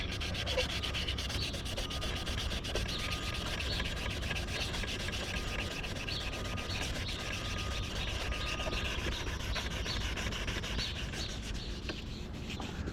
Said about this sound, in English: you want to make sure you get up in here real good with the sanding